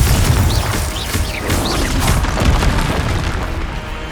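Confringo explosive spell in Hogwarts Legacy, a loud booming blast with crashing debris and rumble, followed by shorter pops and impacts as the fight continues.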